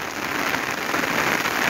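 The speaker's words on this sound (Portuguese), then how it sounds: "Nesse momento tá fechado o tempo, viu? Muita chuva." Heavy summer rain falls steadily on a rural hillside property in Paraíba, Brazil, a dense, close hiss of drops drumming on surfaces with no other sounds.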